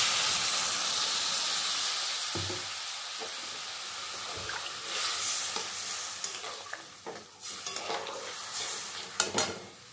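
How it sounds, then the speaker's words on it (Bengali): A pot of drumstick and potato curry bubbling and sizzling, a steady hiss with scattered pops and occasional stirring clatter, close and alone. "এই দেখো বন্ধুরা, আমার ঝোল ফুটে গেছে"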